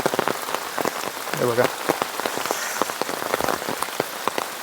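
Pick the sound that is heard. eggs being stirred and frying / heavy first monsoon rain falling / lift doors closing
heavy first monsoon rain falling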